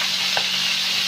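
A small onion sizzles in hot oil in a pan, a steady bright hiss with a brief stir partway through, no talk.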